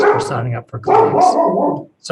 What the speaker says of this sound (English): that's my dog in the background, as you might be hearing.